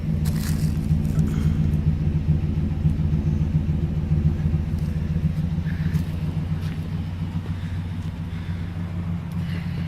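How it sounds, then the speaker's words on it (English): A Nissan Titan pickup with a Flowmaster exhaust rumbles steadily at close range, a deep, even engine drone holding for about ten seconds with no talk over it. "it sounds like a truck. How a truck's supposed to sound"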